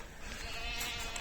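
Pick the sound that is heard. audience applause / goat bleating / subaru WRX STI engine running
goat bleating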